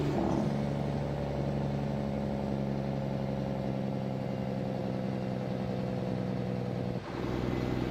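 A Mack Superliner truck in American Truck Simulator drones with a steady low engine rumble under a Jake brake, a constant throbbing roar that dips briefly near the end before resuming.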